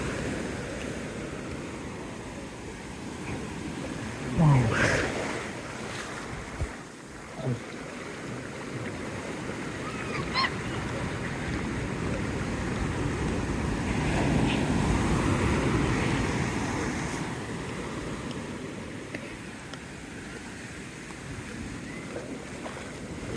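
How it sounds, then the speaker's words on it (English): Ocean waves at Playa Bollullo crash and wash onto the shore, one big surge early and then a broad rolling rush, with wind buffeting the microphone throughout. "Let's take a look at the waves, guys, see if we can find some of the bigger waves here."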